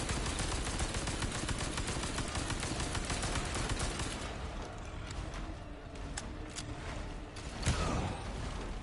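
Rapid gunfire from precise weapons in Resident Evil 4 fills the first half as a dense, loud burst of shots, then thins to scattered single reports and clanks over a lingering background.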